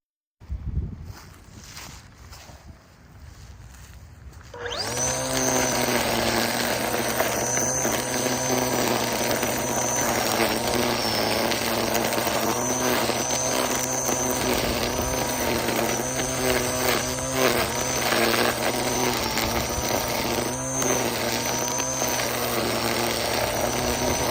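A Makita DUR193 cordless battery string trimmer with thin line cutting grass starts after a quiet moment and then runs with a steady high whine, loud and close, for about twenty seconds with no speech.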